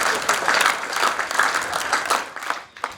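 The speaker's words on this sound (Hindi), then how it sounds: "अपने हाथ से अपने लिए ताली बजा लो" Children at a Republic Day youth club program clapping for themselves, a loud, dense burst of applause that holds steady, then thins out to scattered claps near the end.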